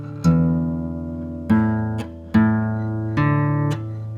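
Guitar notes plucked with a plectrum, four separate strikes each opening on a sharp, bright pick click before the note rings on with rich harmonics, close and clear with no voices.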